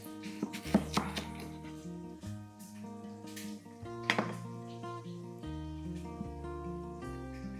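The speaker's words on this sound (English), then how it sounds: "We're just gonna get the onion and chop it in half" A knife cuts through a white onion on a board in a cabin kitchen, giving a few sharp close thuds and clacks amid faint background noise.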